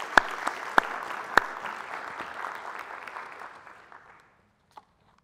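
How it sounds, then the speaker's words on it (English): An audience at a first-year pledge ceremony applauds, a few sharp nearby claps standing out over the general clapping, which fades out around four seconds and leaves near silence with one last stray clap. "Can we have another round of applause?"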